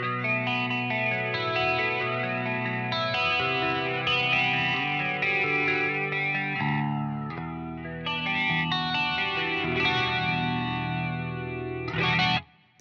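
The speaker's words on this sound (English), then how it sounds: "a flanger effect on the clean sound" Electric guitar playing chords on a clean tone through a Quad Cortex, swept by a flanger's whooshing, jet-like shimmer throughout, ending with a final strum that cuts off.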